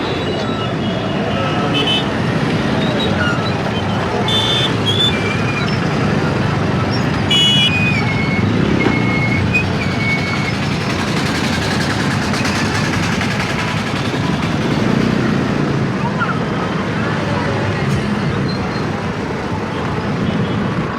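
Heavy traffic jams the main road between Jagtial and Karimnagar, with a constant rumble of truck and car engines, close horn toots and beeps cutting through the dense roadway noise.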